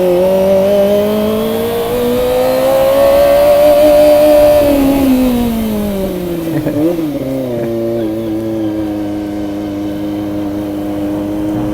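A Kawasaki ZX25R inline-four motorcycle engine on a city ride through Baguio City's central business district, close and loud, holding a high rev that climbs, then drops off with a burble and settles back into a steady drone.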